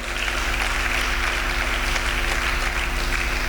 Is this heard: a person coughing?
no